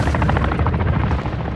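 Cargo helicopter in Call of Duty: Modern Warfare II DMZ, a loud steady rotor thump with rapid rhythmic chopping pulses and a dense low rumble, close by.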